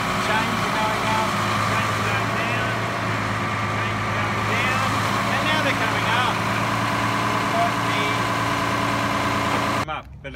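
A straddle carrier's diesel engine running steadily while its front chains are raised, a loud, even idling drone with voices heard over it.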